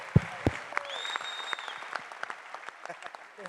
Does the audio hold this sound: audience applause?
yes